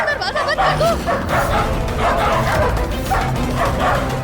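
Several dogs bark and yip close by in a loud, continuous, overlapping burst, with a few whimpering tones mixed in, heard during a tense indoor scene in a television drama.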